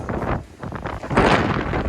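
Wind blowing outdoors on Miyakojima, Okinawa, loud gusty buffeting and rushing close to the microphone, rising and falling over a couple of seconds.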